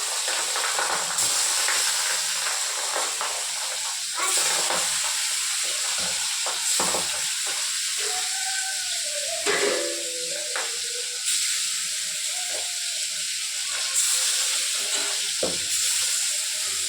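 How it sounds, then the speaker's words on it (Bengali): Pangasius fish frying in a little oil in a covered pan on a gas stove, a loud continuous sizzle and hiss with bursts of spattering and a few clanks, no voices. "আগে মাছটা ভাজে নিই"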